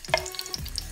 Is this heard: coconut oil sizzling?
yes